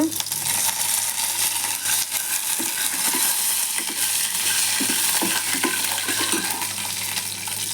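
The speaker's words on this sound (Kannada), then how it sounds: "ಸಾಸಿವೆ ಕಡಲೆಬೇಳೆ ಬೇಳೆ ಎಲ್ಲ ಒಟ್ಟಿಗೆ ಹಾಕುತ್ತಾ ಇದ್ದೇನೆ" Mustard seeds, chana dal and lentils sizzle in hot oil for a tempering for tomato gojju, a loud, constant frying crackle with a few faint stirring scrapes.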